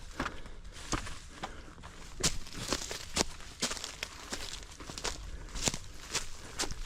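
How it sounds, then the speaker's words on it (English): Footsteps of orienteering runners on forest terrain, a steady series of sharp crunching strides on dry ground and leaf litter, fairly close, with no voices. "we can hear footsteps behind"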